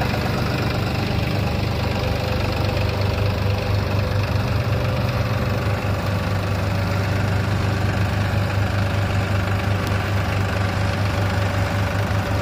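An Excel 4710 4wd tractor engine runs at about 1000 RPM in load reverse gear, a steady, loud, low diesel drone with a faint knocking rhythm that holds constant throughout, with no talk.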